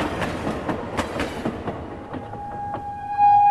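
A train in a video game rushes past at high speed, a dense run of rhythmic clattering bursts that thin out as it recedes, ending in a steady tonal hum.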